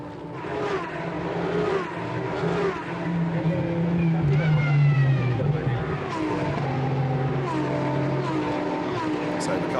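A Lamborghini Super Trofeo race car at the Valencia Super Trofeo Europe race enters the pit lane, its engine droning loud and continuous with pitch sweeps, while a commentator talks over it.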